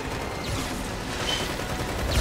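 Rapid gunfire from a first-person shooter video game rattles in a dense, continuous burst, loud and close throughout with a heavier thump at the end.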